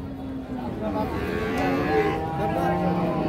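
A two-tooth Holstein Friesian dairy cow lows at a busy cattle market, a long drawn-out bellow rising over steady crowd murmur and faint background chatter.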